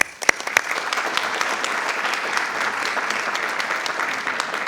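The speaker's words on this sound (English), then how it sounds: "So let's give them a round of applause." Applause at a school board meeting: a few loud close claps start it, then a steady, even round of clapping from the room continues to the end.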